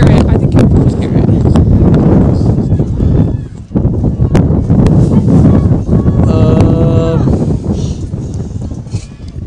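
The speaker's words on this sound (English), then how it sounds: "It is extremely windy. You can hear it." Strong wind at an outdoor girls' lacrosse game buffets the microphone with loud, continuous low rumbling and gusts, and a voice is briefly heard in the middle.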